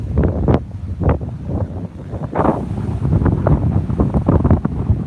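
Strong wind buffets the microphone outdoors at Pamukkale, a rough, gusty rumble that rises and falls continuously for the whole stretch.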